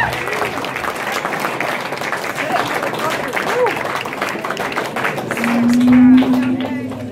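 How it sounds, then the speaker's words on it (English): An audience at a concert at The Velour in Provo claps in a steady wash of applause, with crowd noise and talking over it. "let's make more round of applause for Dean"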